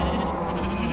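A Minecraft sheep bleats loudly and steadily in a short burst, close and clear, with no talking over it.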